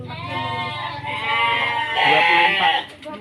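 Etawa goats bleat on a goat farm, several loud wavering calls close by over about three seconds.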